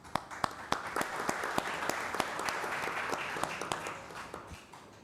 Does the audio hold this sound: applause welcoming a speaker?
yes